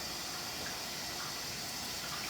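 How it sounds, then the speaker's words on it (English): Cold tap water pours steadily over raw potatoes to rinse off starch, a continuous, close, full gushing splash that stays even throughout without any voices. "We're going to rinse some of the starch off of there."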